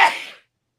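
One short, sharp sneeze, close and fairly loud, that fades quickly into silence.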